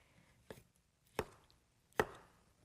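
Three crisp knife chops through tomatoes onto a cutting board, evenly spaced and close, with quiet pauses between them.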